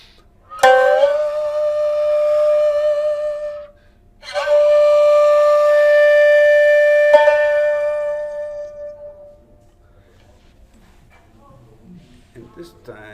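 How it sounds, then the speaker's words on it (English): Shamisen plucked in a traditional Japanese tegoto-mono piece, two sustained phrases of bright twangy notes with ringing overtones, separated by a short pause, then fading into quiet shuffling near the end. "the shamisen, when they play with us, sounds like this"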